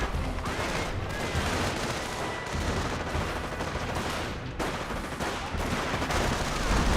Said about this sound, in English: Rangers firing away